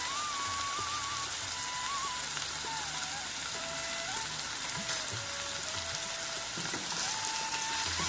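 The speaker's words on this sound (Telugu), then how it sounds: "ఉల్లిపాయలు gold colour light gold colour వచ్చే వరకు మగ్గపెట్టుకోవాలండి." Onions fry in a pan with rock salt and a little turmeric, giving a steady, soft sizzle throughout with a faint tonal background.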